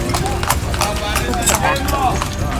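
Hooves of a carriage horse clip-clop on a town street in Edfu, Egypt, a steady rhythmic clatter close by, with people talking over it.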